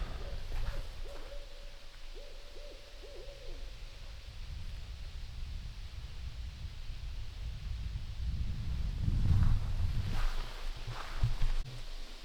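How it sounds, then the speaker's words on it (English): An owl hoots in the Minnesota woods near the Canadian border, a few soft, low calls early on, faint and distant, followed by rustling and footsteps close by. "Sounds like a real owl to me"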